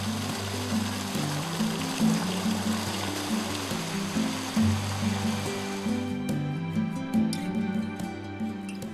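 Artesian bore water gushing from a borehead three quarters of a mile deep, a steady close rushing pour that carries on without pause under a low engine-like drone.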